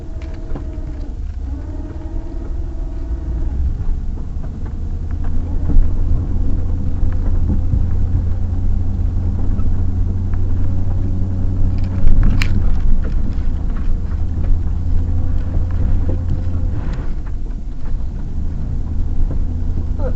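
A Chevy drives through snow, its engine a deep, steady rumble with rough low-end noise throughout, swelling and settling as it pushes through snow, and a sharp brief knock near the middle.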